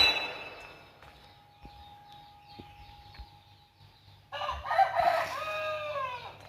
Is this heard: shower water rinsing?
no